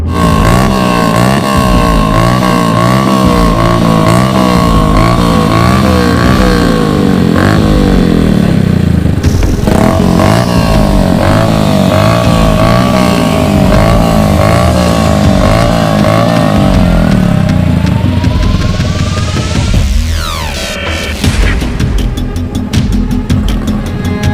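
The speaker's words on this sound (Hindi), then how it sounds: "तो नेक्स्ट शॉट आने वाला है इस बाइक पर, आ जाइए।" Modified motorcycle engine roaring close by and then riding past, loud continuous revving with rising and falling pitch, fading and shifting near the end.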